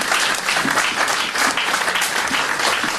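A church congregation applauds in dense, steady, sustained clapping that fills the space from start to finish.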